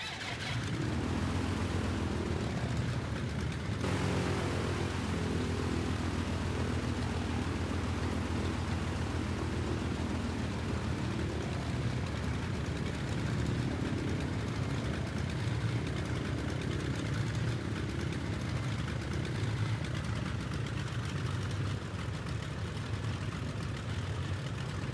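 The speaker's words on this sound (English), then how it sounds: "So let's fire up the engine and taxi on over to runway 22." A piston aircraft engine in X-Plane 12 starts with a sudden rise into a steady, dense idle that runs continuously, with rain falling, loud and unbroken throughout.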